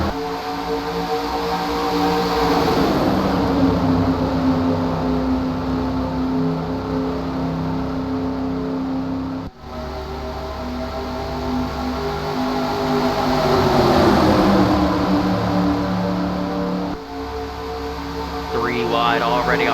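Stock cars in the 2008 Daytona 500 roar past at the start of the race, a loud sustained engine drone rising and falling as the pack sweeps by, with a race commentator talking over it.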